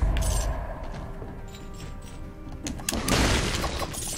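A heavy body slam crashes into an enemy in the video game Dead Cells, heard as a burst of shattering, crunching impact noise that swells near the end over dense game effects.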